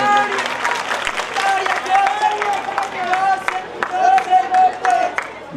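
Audience applause at a Shiv Vivaah and Shiv Leela religious stage event, steady clapping from a large crowd sustained throughout, with cheering and a lively hubbub mixed in and a voice rising over it at moments.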